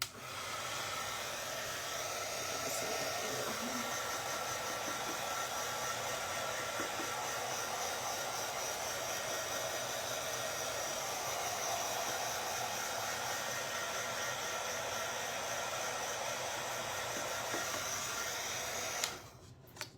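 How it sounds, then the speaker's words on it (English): A heat gun blows with a continuous hissing whoosh, steady and fairly quiet for the whole stretch before cutting off abruptly near the end. "I'm gonna use my drying tool to dry this real quick"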